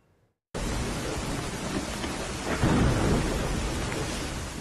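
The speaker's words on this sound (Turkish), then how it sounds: "Geceyi aydınlatan şimşekler, gök gürültüsü ve sonrasında kuvvetli yağmur." Heavy rain pours down steadily as thunder rolls through a nighttime storm, a dense continuous roar that swells louder midway, with no voices present.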